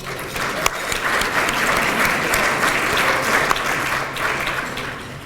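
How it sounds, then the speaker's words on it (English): A reunion luncheon audience at Pittsburg State University claps steadily in a dense, even wash of applause that holds at a constant loudness for the whole stretch, with a few sharper individual claps standing out. "let's give a round of applause to Campus Dining"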